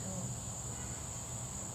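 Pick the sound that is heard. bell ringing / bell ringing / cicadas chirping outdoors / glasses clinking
cicadas chirping outdoors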